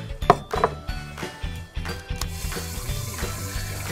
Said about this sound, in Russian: Сейчас я их буду обжаривать в масле.